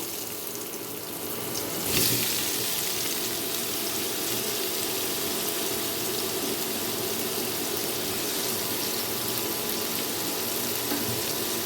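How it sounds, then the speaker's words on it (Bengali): Raw jackfruit pieces frying in oil left over from frying potatoes, a loud, dense, continuous hiss starting abruptly as they hit the pan and then holding steady, with no voices. "ওই একই তেলের মধ্যে আমি ইঁচড়গুলোকেও ভেজে নেব"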